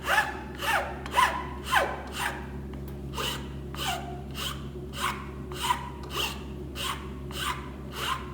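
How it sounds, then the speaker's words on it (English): A flat file rasps back and forth on a wooden workpiece held in a vise, giving a steady series of about a dozen rhythmic strokes over a low background hum. "We're going to work this with our flat file just like this."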